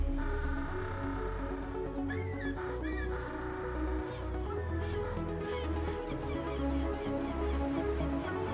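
African penguins in a protected colony give honking, braying calls, several overlapping close by over a dense, continuous background of other birds and sound.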